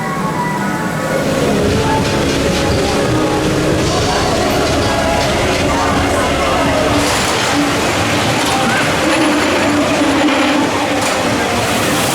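A roller coaster train at Blackpool Pleasure Beach thunders past close by in a sustained rumbling roar lasting several seconds, with people's voices faintly beneath.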